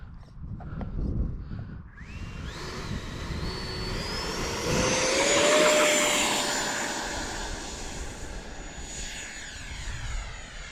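An FMS F-18F Super Hornet RC jet spools up on takeoff, its ducted-fan whine climbing steadily in pitch as it swells louder, then fading as it moves away.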